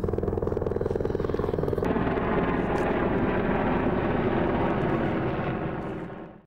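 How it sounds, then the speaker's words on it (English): A helicopter flies overhead with a steady, loud rotor chop and engine roar that holds for several seconds before fading out at the end, with no talk over it. "There's a helicopter coming."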